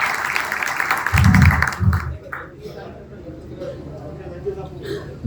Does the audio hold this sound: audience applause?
yes